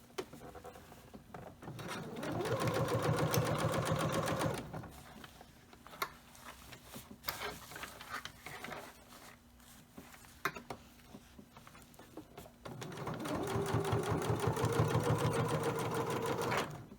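A sewing machine stitches the side of an all-in-one cloth diaper against the half-inch mark on the throat plate, giving two long, steady, close whirring runs with quieter handling and fabric shuffling between them.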